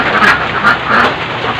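Laying ducks on a duck farm quack in a loud, dense chorus, with several overlapping calls rising and falling close by and no talk.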